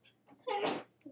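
A single sharp sneeze bursts out loud and close mid-clip, preceded by a short intake of breath and followed by a faint murmur.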